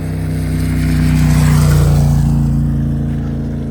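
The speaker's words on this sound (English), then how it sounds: "here comes a motorcycle" A motorcycle on a Camino trail swells from a moderate hum to a loud, steady engine drone as it passes close by, then fades slightly as it moves away, with no talking.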